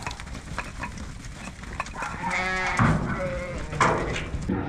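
Crossing ewes bleat on an Australian sheep farm, several wavering calls overlapping at moderate distance over a noisy outdoor background, one louder bleat near the end.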